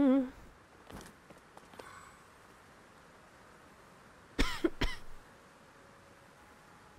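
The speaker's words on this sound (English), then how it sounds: "The coughing has started" A character in Zelda: Tears of the Kingdom coughs, with a sharp pair of close coughs late on after faint earlier throat sounds and quiet game ambience.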